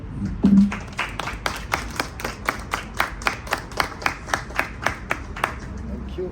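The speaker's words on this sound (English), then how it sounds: "Round of applause." A small audience at a talk claps in a steady, evenly spaced rhythm of distinct, close hand claps lasting several seconds, with no one speaking over it.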